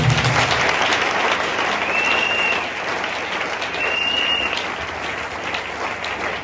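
A church congregation in Congo-Brazzaville applauds during a service, a steady, dense burst of clapping that fills the room, fades slightly midway and then holds loud to the end.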